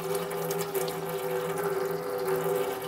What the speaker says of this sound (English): Now that our radiator is drained out